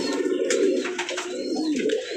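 Colored pigeons coo close by in a loft, their soft throaty calls repeating continuously and overlapping over a short stretch.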